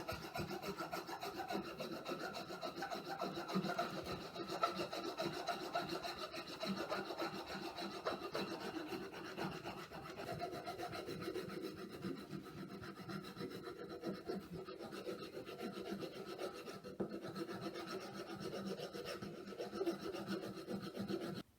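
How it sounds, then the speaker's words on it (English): Continuous rhythmic rubbing and rasping of wet sanding on a wooden club, steady back-and-forth strokes, fairly quiet and close, with no voices. "Then I'm going to wet sand it."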